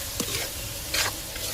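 Tomatoes get stirred in a sizzling frying pan, with a few short scraping strokes rising over a low continuous fry and no voices.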